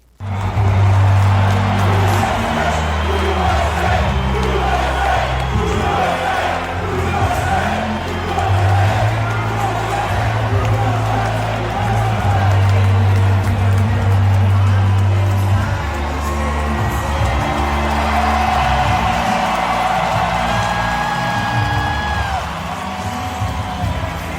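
A big crowd at a Trump rally cheers and whoops nonstop, a dense roar of voices with shouts rising out of it, loud and steady throughout, over a low rumbling hum.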